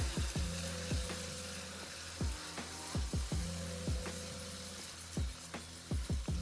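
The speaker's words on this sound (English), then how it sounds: "Give this a little stir." Chicken and rice with black pepper are stirred in a single pot for Cuban-style arroz con pollo, a soft steady sizzle under repeated scraping strokes of a spoon against the pot, close and fairly quiet with no speech.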